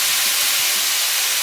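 Bulgogi beef sizzling as it is stir-fried in a pan, a steady broad hiss that fills the short moment without breaks, loud and close with no talk.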